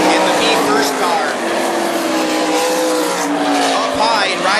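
Sprint cars race on the dirt oval at North Central Speedway during a UMSS event, engines roaring loud and continuous with tires sliding, while a commentator talks over the noise.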